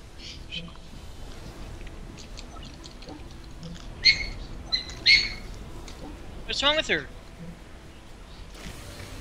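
A pet parrot squawks indoors in a house, giving a few short, sharp calls midway and then a longer warbling burst. Low background noise runs throughout, with no clear talk over the calls.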